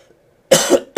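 A person coughs twice in quick succession, close and loud, after a moment of near silence.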